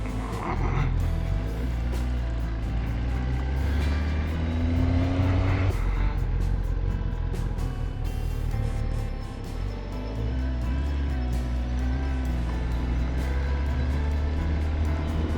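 A motorcycle with a 32.9-inch seat height cruises along a road, its engine droning continuously at a steady, fairly loud level with wind rumble and occasional shifts in pitch.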